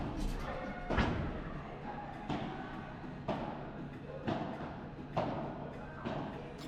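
A padel ball is struck back and forth with rackets during an indoor match, sharp thuds recurring roughly every second in a regular rally rhythm over low background murmur.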